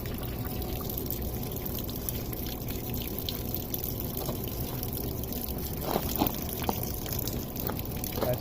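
A bottle of water is poured down the rear lift gate drain of a 2013 Cadillac SRX, making a continuous close gurgling rush and trickle with a few brief splashes near the end and no talk.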